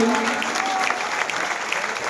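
An audience claps steadily at a freshers' welcome program as a guest is honoured with a scarf and bouquet, dense close applause with a faint voice and a brief tonal tone behind it.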